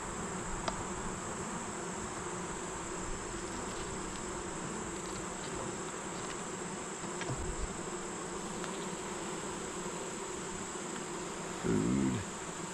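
Caucasian honey bees drone in a steady, dense buzz at an open hive during an inspection, close and continuous, with a louder buzz passing near the end.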